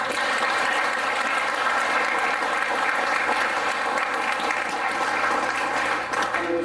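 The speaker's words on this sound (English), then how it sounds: "So Sergio, let's give him a round of applause." Audience at an Oxnard Veterans Day ceremony breaks into steady, dense applause that holds at full strength with no speech, following a national anthem performance.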